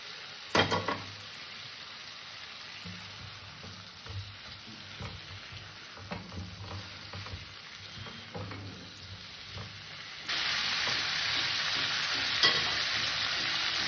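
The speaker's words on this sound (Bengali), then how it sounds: "এবার আমি এখানে দিয়ে দেবো ভেজে রাখা ফুলকপি কটা" Fried cauliflower pieces stirred into ginger paste in a hot pan, frying steadily with scraping stir strokes and a constant sizzle that grows louder toward the end; no talking.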